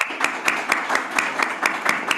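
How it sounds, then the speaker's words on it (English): Small writers' workshop audience applauding a volunteer, a steady wash of clapping with a few sharper claps recurring at an even beat, fairly close and alone without talk. "So please, a round of applause."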